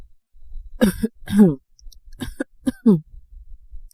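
A short series of harsh coughs with brief pauses between them, close and moderately loud.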